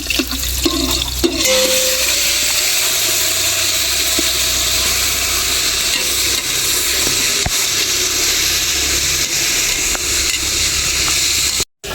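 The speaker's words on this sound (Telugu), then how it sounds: "నెయ్యి పోసుకో ఊరికాయ వేస్తున్నా చికెన్ వేస్తున్నా" Chicken frying in ghee for a biryani, a steady loud sizzle running for the whole stretch with a few brief clatters near the start and a short cut-out just before the end.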